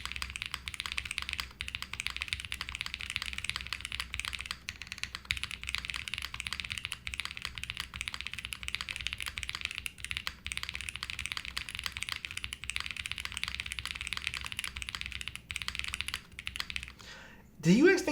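Someone types steadily on a mechanical keyboard fitted with PE foam, making a dense, fast clatter of soft, muted keystrokes close to the mic, ending with a brief rustle.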